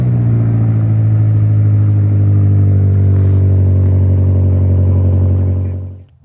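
A BMW Concept Skytop, likely with an S63 V8, holds a deep, steady engine rumble, loud and close, with a strong low drone that fades out abruptly at the end.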